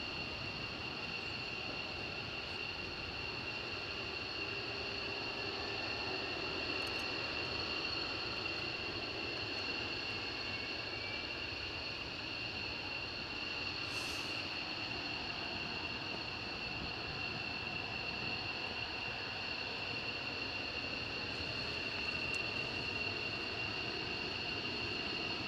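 A military jet taxis across the RAF Lakenheath airfield, a steady distant engine whine and broadband roar holding evenly throughout with a high tonal hum, no voices.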